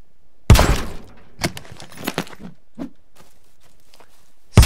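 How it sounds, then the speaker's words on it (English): Cases are smashed open in The Forest 2 video game, a sharp breaking crash followed by several scattered clunks and thuds, and a final loud hit at the end, with no speech. "Smashing open cases, committing vandalism."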